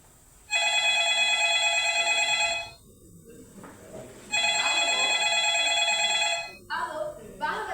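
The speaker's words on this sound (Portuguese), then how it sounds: "Enquanto Bárbara faz sua maquiagem, recebe uma ligação de Emily." A telephone rings for an incoming call, two long electronic ring bursts separated by a pause, loud and close, with a shorter fragment at the end.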